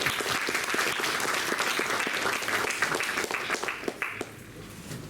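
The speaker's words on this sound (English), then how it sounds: "Let's give a big round of applause." Audience at an alumni talk applauds as a bouquet is presented to the chief guest, a wing commander, with sustained, fairly loud clapping that thins and tapers off toward the end.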